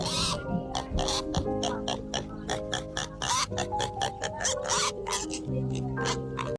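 A pet pig oinks and grunts in rapid, repeated bursts close by, with steady tonal background sound beneath it.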